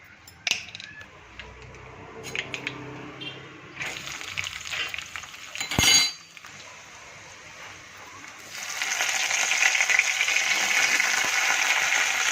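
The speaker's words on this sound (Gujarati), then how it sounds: "હવે રઈને જીરું નાખી દઈએ" Mustard seeds and cumin hit hot oil in a kadai as a pointed gourd and potato dish begins. A few light clinks come first, then a loud, steady sizzling hiss takes over and continues to the end.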